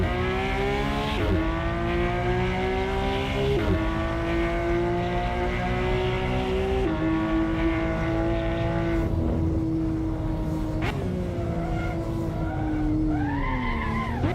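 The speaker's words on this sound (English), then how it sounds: "This exhaust will get you in trouble because the sound of it, it's hypnotic." A Mercedes car in the racing game Assetto Corsa, its engine and exhaust droning loud and continuous, pitch climbing and dipping through gear changes, with tyre skid as it drifts.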